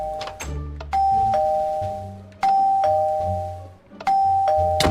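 A doorbell chimes again and again, each ding-dong ringing out and overlapping the one before in a steady sequence, all close and loud.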